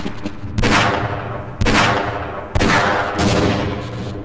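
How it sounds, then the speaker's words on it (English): Three loud grenade explosions in Half-Life, spaced about a second apart, each a sharp close blast trailing into a rumbling decay, with a fainter pop just before the first. "Where are these grenades coming from?"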